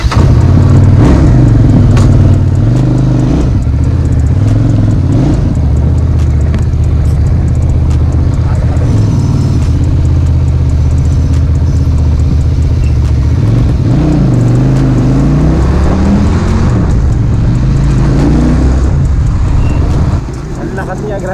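A QJ Motor SRV 400 cruiser motorcycle engine starts and runs with loud, steady low rumbling and rising revs that stay close and continuous, while someone talks over it throughout.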